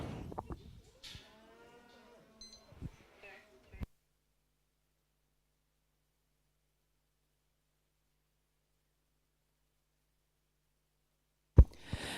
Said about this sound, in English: very big thank you to the Coddington family, kindly loaning cattle being used in this Open Camp Draft this morning